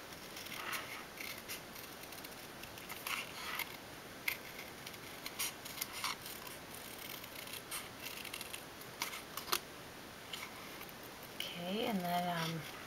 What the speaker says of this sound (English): So just trim this off.